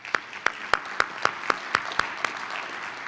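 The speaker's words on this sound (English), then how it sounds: "I'd like everybody to clap for the veterans in this room" Audience members clap for veterans at a Wilson High School board meeting, the claps landing in a steady, evenly spaced rhythm over low room noise.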